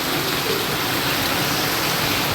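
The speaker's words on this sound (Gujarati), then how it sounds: "તો ભાઈ જો આ બાદ તો વરસાદ ફૂલ ચાલુ છે" Heavy rain pours down steadily during a night downpour, a loud, dense, unbroken hiss of falling water close by with no other sounds.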